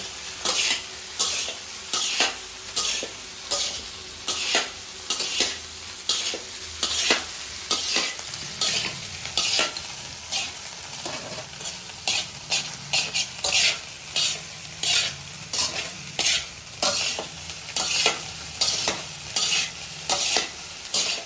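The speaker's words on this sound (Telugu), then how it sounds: "హైలోనే ఫ్రై చేసుకోవాలి." Chicken fried rice stir-fried restaurant-style on high heat, a steady close sizzle broken by quick, repeated spatula scrapes and tosses against the pan, with no talking.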